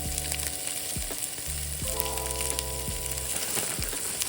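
Onions and sun-dried tomatoes fry in a pan, a continuous bright sizzle with hard clacks and scrapes from stirring, heard up close with no voices.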